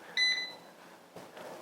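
A Cosori air fryer gives a single short electronic beep as its start button is pressed, a bright steady tone lasting a fraction of a second over a quiet kitchen, followed by a soft click and faint handling noise.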